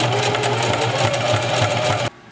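A sewing machine stitches a small canvas test piece, a close, rapid mechanical buzz running steadily for about two seconds before cutting off abruptly.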